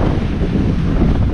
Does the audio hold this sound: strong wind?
yes